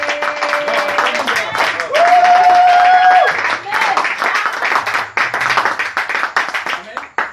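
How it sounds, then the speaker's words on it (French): A church congregation applauds in a dense, sustained wash of clapping and cheering voices, with a sung or shouted note rising above it midway, the crowd noise continuing to the end. "Est-ce qu'on peut acclamer la parole?"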